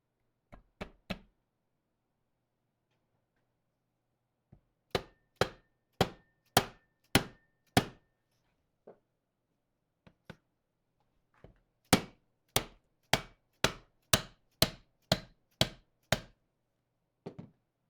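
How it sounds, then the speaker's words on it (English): Sharp metal hammer blows ring out during the rebuild of a Walker Turner 1165 geared motor, as parts are pounded down in close, loud bursts of rapid strikes separated by quiet pauses. "I got this pounded down to where it needs to be"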